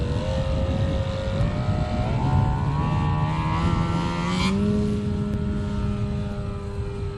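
A Hanger 9 X Cub 60cc RC plane on big tires throttles up for takeoff, its loud, steady propeller drone climbing in pitch through two distinct surges and then holding a high whine.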